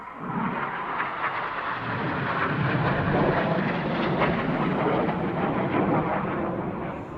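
Aerobatic display aircraft flying the Cyclone manoeuvre at an airshow, a loud sustained jet roar that swells and holds steady for several seconds, broad and rumbling with no talk over it.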